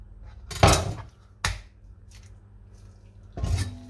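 Kitchen scissors snipping into raw chicken, a few distinct close crunchy cuts spaced about a second apart, with quiet pauses between.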